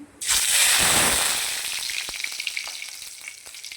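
Curry leaves drop into hot oil with popped mustard seeds for a tempering, bursting into a loud sudden hiss that gradually fades into crackling spatters, close and alone.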